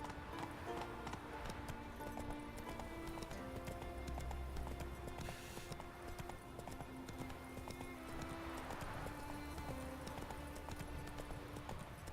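The horse Roach walking in The Witcher 3: steady clip-clop hoofbeats in an even rhythm, fairly quiet and close, over a soft backdrop of game music with sustained tones.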